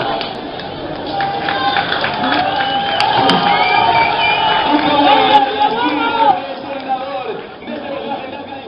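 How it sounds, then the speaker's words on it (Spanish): Crowd at a cosplay catwalk event cheers and whoops for a costumed participant, a dense, lively roar of voices and shouts that holds steady, then drops somewhat near the end. "Un aplauso para Kuro"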